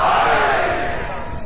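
A large crowd roars a religious war slogan in unison at a Shia majlis for Hazrat Abbas, a loud, dense collective shout that slowly fades.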